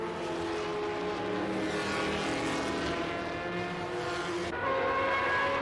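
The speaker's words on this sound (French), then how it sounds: "Le drapeau est baissé, départ type Indianapolis, les bolides sont partis pour un tour de reconnaissance." Race cars roar off at the start of the 1972 24 Hours of Le Mans, a continuous dense engine drone with shifting tones as the field passes, loud and sustained.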